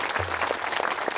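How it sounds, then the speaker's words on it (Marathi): At a kirtan, an audience breaks into loud, dense applause, a continuous rush of many hands clapping together. "आयोजक नियोजक मंडळी करता एकदा जोरदार टाळी वाजवा."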